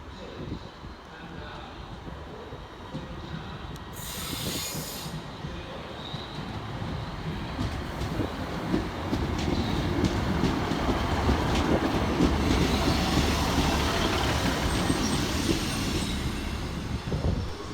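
A Class 150 diesel unit on a Transport for Wales service pulling into Cardiff Queen Street station, its rumble and wheel noise building steadily over the platform ambience as it nears, with a brief high whine partway through.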